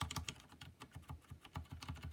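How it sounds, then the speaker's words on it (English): Muted keystrokes on a Filco Majestouch 2 TKL keyboard fitted with Cherry MX Silent Red switches, typed in a steady, fairly quick rhythm of soft, damped clicks and thuds, close up with no talking. "The actual sound of typing on this"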